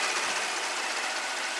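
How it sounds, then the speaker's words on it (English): Hyundai Genesis sedan's 3.8-liter direct-injected gas V6, 2013 model, running steadily with an even, unbroken hum close by, no voices over it. "show the engine."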